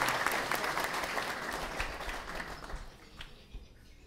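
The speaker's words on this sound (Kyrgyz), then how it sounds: "Аларга да бир жакшы кол чаап коебуз." A crowd claps at a gathering where donations are being tallied, with dense, steady applause that holds strong and then gradually thins and fades toward the end.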